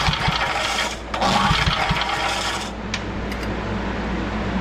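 A Ward's generator engine is pull-started with its rope: rough, scraping bursts of cranking noise, loud and close, that stop and start without the engine catching into a steady run.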